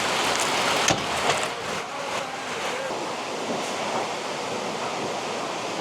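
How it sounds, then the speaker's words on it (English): Wind and rain outside a horse barn in Tennessee, a continuous wash of falling water and gusts heard close, with a brief sharp knock early on. "there's wind and rain, so we've got some moisture coming down"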